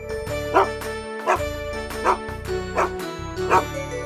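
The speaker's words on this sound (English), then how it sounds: "dog." A dog barks in a steady rhythm, five clear woofs spaced under a second apart over a bright, sustained musical backing of a children's alphabet song, with the barks standing out near and loud.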